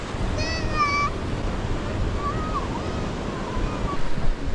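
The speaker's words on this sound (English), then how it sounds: "Just in the waves." Ocean surf breaks and washes onto a beach during a family fishing day, a steady, loud broadband roar throughout, with faint high tonal calls early on and a slight surge near the end.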